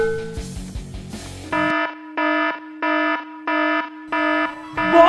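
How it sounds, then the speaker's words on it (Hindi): An alarm goes off in a sister-in-law's room in a game setting, a loud electronic buzzer sounding in steady repeated pulses about once every half second, following brief noise at the start. "भाभी के कमरे का अलार्म बज गया"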